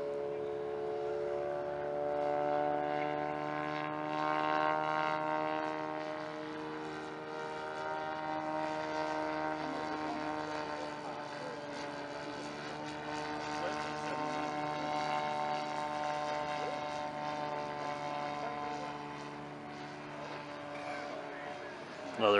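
A 60% scale customized JR Hempel Piper Cub model airplane flies past in a side slip at an air show, its engine giving a steady, fairly loud droning buzz whose pitch slowly bends as it passes.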